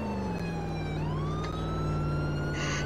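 A police car siren wails in a drifting simulator video game, a loud, sustained tone that dips and climbs again over a running engine drone, with a burst of higher noise near the end.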